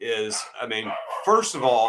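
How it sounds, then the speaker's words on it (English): A dog barks in the background during a conversation, its yips and bow-wows mixed in under ongoing speech. "I apologize that dog's barking"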